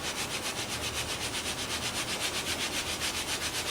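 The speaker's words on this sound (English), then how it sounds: "now we're going to screed it" Rhythmic rasping scrape as a screed is drawn back and forth across wet concrete on a countertop form, removing excess in quick, regular short strokes, close and steady with no talking.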